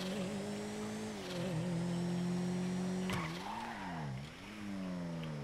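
A car engine in Grand Theft Auto 5 on PS4, held in second gear with the handbrake on, drones steadily against the rev limiter with slight wavering pitch, then dips and climbs again near the end, loud and close.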